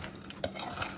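A spoon scrapes and clinks in a bowl while apple pie filling is stirred and mixed, one brief close stroke with a bright knock.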